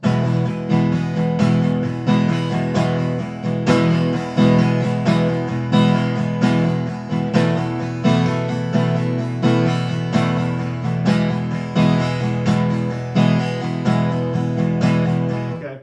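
A guitar is strummed steadily with rhythmic accented strokes over sustained chords, loud and close, continuing for the whole stretch with no voices.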